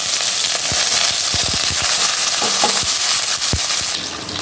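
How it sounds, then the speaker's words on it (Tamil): Curry leaves and green chillies hit hot tempering oil for a South Indian toor dal dish, giving a steady, loud sizzle dotted with sharp pops and crackles throughout. "கருவேப்பிலை சேர்த்து அப்படியே மிக்ஸ் பண்ணி விட்டுக்கலாம்."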